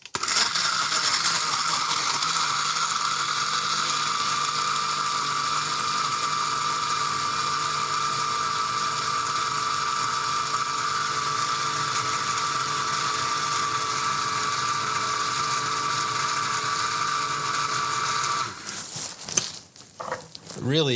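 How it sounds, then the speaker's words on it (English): A blender whirs continuously while blending a smoothie, a loud, steady motor whine that holds for about eighteen seconds before cutting out into a few clunks and rattles. "And let's blend her up."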